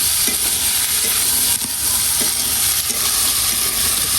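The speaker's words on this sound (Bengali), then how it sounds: "ছোলা ভাজা দেখো," Boiled chickpeas fry with onions in a pan, giving a loud, constant sizzle and hiss with soft periodic scrapes of stirring.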